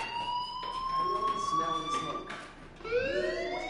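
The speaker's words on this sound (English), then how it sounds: "Hey, do you hear that fire alarm?" A fire alarm in a building sounds a steady, sustained electronic tone that keeps ringing throughout, fairly faint and with no speech over it.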